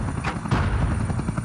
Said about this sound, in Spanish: Un segundo helicóptero, el Black Hawk Super 6-4, pilotado por Mike Durant, fue derribado.